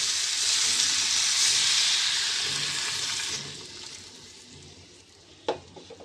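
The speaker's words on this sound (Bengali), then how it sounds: "জল দিয়ে দেবো।" Water poured into a hot pan of fish curry with potatoes, making a loud, steady rushing sizzle that fades away over a few seconds, followed by a single clink.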